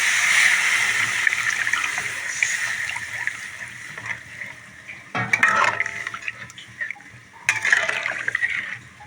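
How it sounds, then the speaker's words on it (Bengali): Water poured into a pan of sautéed paneer curry, giving a running, splashing pour with sizzling hiss that comes in bursts, loud and close, with a couple of sharper splashing spurts near the end. "কষানো হয়ে গিয়েছে, এখন আমি জল অ্যাড করে দেবো।"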